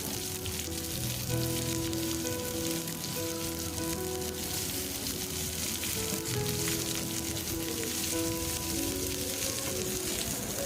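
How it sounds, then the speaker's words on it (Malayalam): Chopped onion sizzles in hot oil in a pan while being stirred for an eggplant stir-fry, a loud, continuous crackling fry with faint scraping, steady throughout and without any talking. "ചെറുതായി ചോപ്പ് ചെയ്ത് വെച്ച സവോള ചേർത്ത് നല്ല രീതിയിൽ അത് ഇളക്കിയെടുക്കുക"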